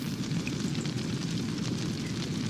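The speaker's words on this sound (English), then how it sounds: "I'm trying to extinguish the fire." A kitchen stove fire is being extinguished in The Sims 4, a loud, continuous rushing roar that holds steady with no pauses.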